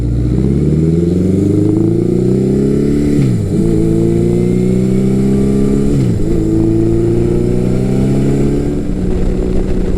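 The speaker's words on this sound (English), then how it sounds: "this bike has a 4-into-2, and it doesn't sound bad" A motorcycle with a 4-into-2 exhaust revs up steadily while riding, drops briefly as gears shift twice, then pulls again with a loud, throaty exhaust drone close by.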